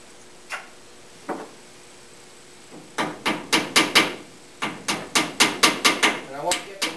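Hammer driving wooden wedges into tenon slots on a sideboard leg stretcher, starting with two isolated taps and then quick runs of sharp, evenly spaced knocks, close and clear.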